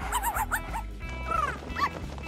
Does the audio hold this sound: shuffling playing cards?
no